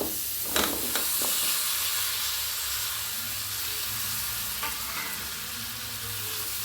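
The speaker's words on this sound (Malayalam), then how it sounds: "നന്നായി ഇളക്കി യോജിപ്പിക്കാം." Boiled, peeled jackfruit seeds are stirred in a frying pan with a steady close sizzle and hiss, a few scraping clinks of the spoon near the start, and no voices.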